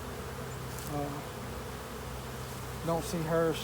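Honeybees buzz in a dense, steady swarm hum behind a household dryer, close and continuous, with a person speaking briefly over it.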